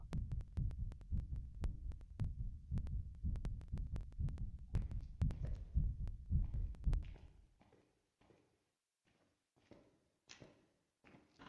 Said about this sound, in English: Hear the heartbeat.